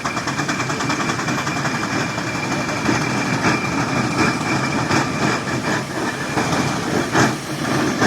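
A big showman's steam traction engine runs at a steam rally, giving a continuous mechanical clatter and rhythmic chuffing with rumbling wheels, close and fairly loud, with voices talking over it.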